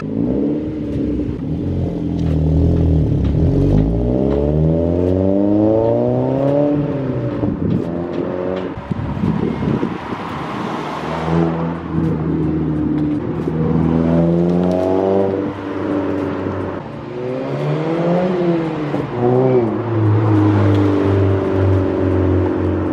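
A Mazda 3 car drives up and down the road, its engine note rising and falling steadily through repeated accelerations, loud and close throughout with no talking.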